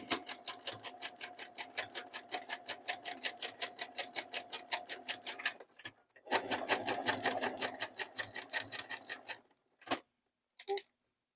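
A sewing machine stitches stretchy knit fabric for a twisted headband in a rapid, steady run of needle strokes, pauses briefly, then races again before stopping with a few short bursts, loud and close with no talk.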